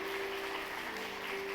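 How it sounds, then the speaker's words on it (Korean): A Sunday worship congregation applauds to welcome guests, a soft continuous wash of clapping with a steady low hum running beneath it. "박수하겠습니다."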